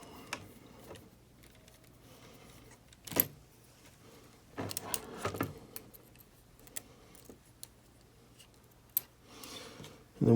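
Small screws being removed from the steering link of an Axial SCX24 RC crawler, quiet with faint clicks and a few sharp metallic clinks and rattles of tools and parts, close up.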